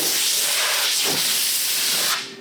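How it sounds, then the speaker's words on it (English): A compressed air nozzle blasts a loud, steady hiss onto a freshly welded thin metal classic car panel to cool it, cutting off abruptly near the end. "If you have air, you can use an air nozzle like this and kind of cool it off."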